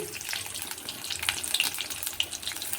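Cumin seeds tempering in hot oil for a banana-blossom ghonto, a steady close hiss with scattered small pops and crackles throughout.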